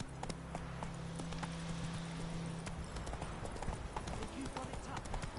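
Hooves clip-clop rhythmically as a horse gallops in The Witcher 3, steady and close, while a voice speaks over the start.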